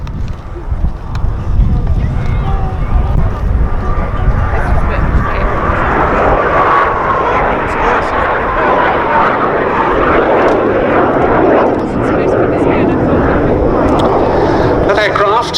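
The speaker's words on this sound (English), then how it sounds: "That aircraft, the one in the camouflage scheme" A fixed-wing propeller aircraft in camouflage livery flies past at the Duxford Air Festival, its engine drone loud and steady throughout, with an announcer talking over it on the public address.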